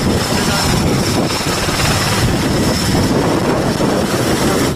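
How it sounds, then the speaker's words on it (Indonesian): An army helicopter gives off a dense, continuous roar of rotor and engine noise, loud and unbroken throughout. "Ini helikopter angkatan darat."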